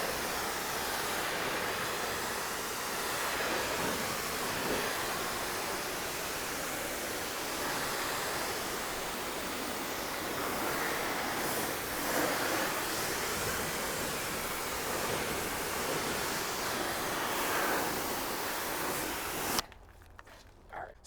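A continuous hiss of rinse water spraying over a car coated in ceramic soap, loud and steady throughout, then cutting off abruptly near the end.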